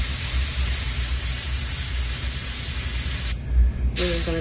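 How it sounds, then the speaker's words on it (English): A steady, broad low-pressure airbrush hiss sprays paint onto a custom trout net continuously for a few seconds, then cuts off briefly before resuming, close and fairly loud. "Now a very low pressure spray"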